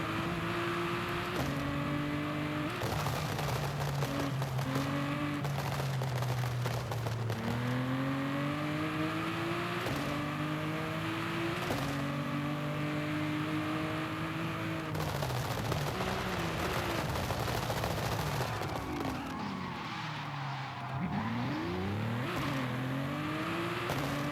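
Race car engine in the video game Forza Horizon 5 revving hard through repeated gear changes and sweeping pitch rises and drops, loud and continuous at speed with no speech.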